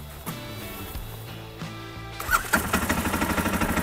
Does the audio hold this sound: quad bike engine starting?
yes